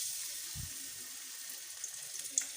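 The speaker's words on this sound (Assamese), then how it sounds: "তেলত ফ্ৰাই কৰি ল'ম" Food fries in hot oil with a soft, continuous hiss and scattered small pops, quiet and close with no voices.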